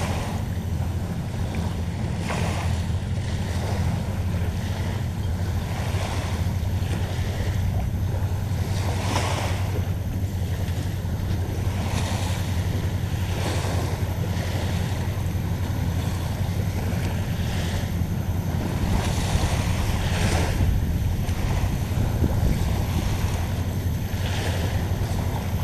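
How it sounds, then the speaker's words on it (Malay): Sea waves washing on a Singapore shoreline while fishing, a steady loud broadband wash with periodic surges and gusty wind noise on the microphone, continuous throughout with no talk. "Saya main kat bahagian pantai pula"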